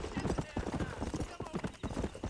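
Horse hooves clip-clop in a video game playthrough, a quick uneven run of close hoofbeats with a voice talking over them.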